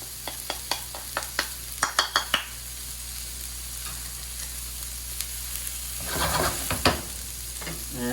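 Garlic fries in a pan with green onion for pad thai, sizzling steadily and close, while a utensil clinks and scrapes in a quick series of stirring taps and later a louder stirring burst.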